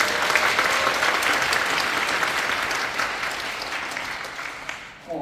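An audience applauds a violinist after a concert performance, dense sustained clapping from a crowd that slowly fades over about five seconds.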